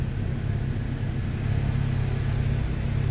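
A Fiat Palio 1.3 16-valve engine idles with its revs hunting unevenly, a close, continuous low rumble that holds steady in level for a few seconds with no talk.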